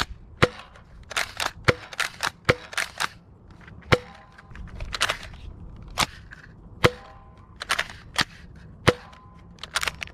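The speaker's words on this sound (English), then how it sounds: "like the other AccuRival blasters, the firing performance of the Mirage is very good" Nerf Rival Mirage XXIV-800 toy blaster firing foam rounds outdoors: a rapid series of sharp, loud snapping shots at an uneven rhythm, some in quick pairs, heard alone without talk.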